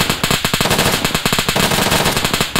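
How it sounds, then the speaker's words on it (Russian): Automatic machine gun fire in the military video game ArmA 3, loud, close bursts of rapid rhythmic shots hammering steadily throughout with no talking. "Кто работает? Пулемет."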